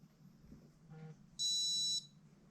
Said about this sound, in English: with a little beep like that,